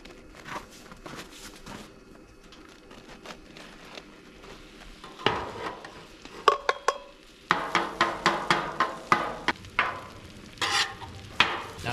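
Butter, rice and meat cook on a hot griddle, a low sizzle running beneath repeated sharp scraping and tapping of a spatula stirring the food, with the clatter growing louder and busier in the second half.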